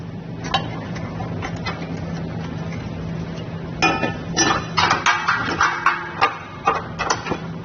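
Steel bolts pushed through a Curt trailer hitch on a 2023 Jeep Wrangler 4xe, close metallic clinks and knocks, sparse at first, then a denser run of rattling taps toward the end, with no talking.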